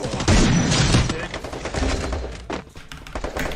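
Rapid bursts of gunfire from the Free Fire video game crackle loudly in quick succession, mixed with thuds during a competitive 4v4 match, while players shout over the shots.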